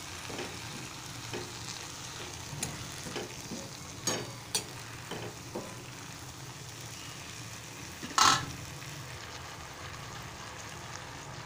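Drumstick vegetable (shevga) sautéing in a pan, a steady soft sizzle broken by scattered scraping stirs and one sharper clatter near the end, quiet and close with no talk.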